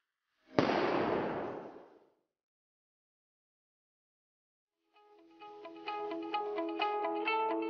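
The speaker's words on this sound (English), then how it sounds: "Another awesome feature of the Go Knife is its built-in flare launcher." A Go Knife's built-in flare launcher fires once with a sharp loud bang and a fizzing rush that fades over a second and a half. After a silent gap a tonal whistling, crackling sequence rises and continues.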